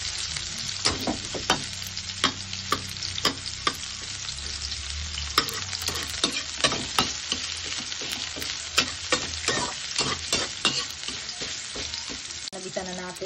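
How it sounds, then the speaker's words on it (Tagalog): Garlic and onion sautéed in a pan for chicken wing adobo: continuous bright sizzling, punctuated by frequent sharp spatula scrapes and knocks in an irregular rhythm, close and clear with no talking. "Nabitan na natin ang sibuyas, bawang."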